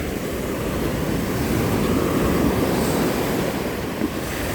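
Sea waves at the seashore, a steady low rushing wash of surf, broad and continuous with wind noise blowing across the microphone and no voices.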